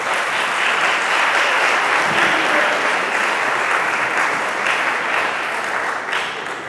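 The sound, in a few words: applause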